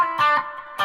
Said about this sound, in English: Well, lots of reverb.